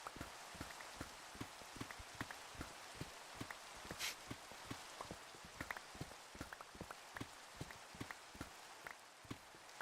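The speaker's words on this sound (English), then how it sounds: "it always rains in this world" Rain falls in a Minecraft world as a soft, steady hiss with a rhythmic series of faint ticking taps like footsteps or drops, quiet and continuous throughout.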